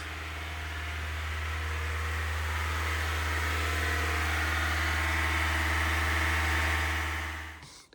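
A Honda CRX engine idling a little high after sitting unused, a steady close low hum and drone that holds evenly, then cuts off abruptly at the end.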